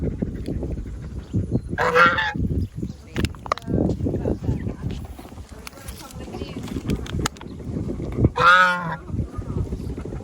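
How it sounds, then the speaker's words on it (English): A goose on a homestead garden honks loudly twice, a few seconds apart, with other farmyard noise and movement continuing around it. "Goose."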